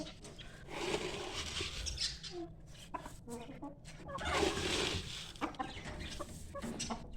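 Roosters and chicks cluck and squawk close by in short bursts while fighting, mixed with rustling and scuffling movement around them.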